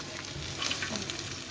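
Chopped onions are stirred in hot oil in a pan, a close and continuous sizzle with light scraping underneath.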